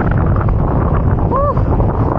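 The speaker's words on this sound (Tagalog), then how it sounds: "Habang napakalakas ng hangin" Strong wind roaring and buffeting the microphone on a bike ride toward a Pacific view deck in Dingalan, a dense continuous rumble with a faint brief tonal whistle partway through.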